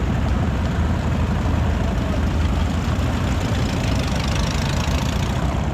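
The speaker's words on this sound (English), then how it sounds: "The serious vintage bikes are just rolling in." Vintage motorcycles from the 1910s and 1920s roll in during a Transamerica endurance ride, engines running in a continuous loud, knocking rumble with no pauses.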